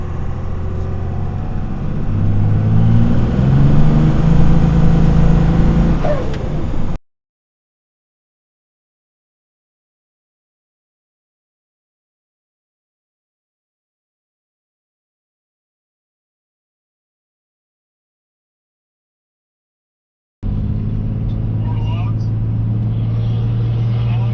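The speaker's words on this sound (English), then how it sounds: "We'll do the second gear burnout, hitting the lockup." A 1000 HP triple turbo Cummins diesel truck doing a rolling burnout: loud, steady engine roar for several seconds, then a long stretch of total silence before the roar returns.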